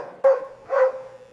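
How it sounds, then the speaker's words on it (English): Dog in a crowded county shelter with concrete walls gives two short echoing barks, close and fairly loud, about half a second apart. "The concrete walls are cold and always echo with the barking of the dogs who wait."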